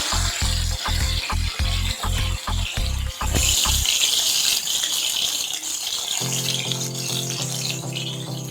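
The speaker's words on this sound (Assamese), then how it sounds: "বাদামখিনি মই এনেদৰে ভাজিছোঁ" Steady, close-up sizzling of peanuts frying in oil, with a run of rhythmic knocks at the start and a humming tone joining near the end.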